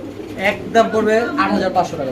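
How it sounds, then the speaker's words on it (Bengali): Large modern pigeons coo in a pet pigeon market, with several soft, rolling calls coming in close succession over a couple of seconds, loud and near. "এখানে আছে মডার্ন কবুতর দেখতে পাচ্ছেন বড় কবুতর"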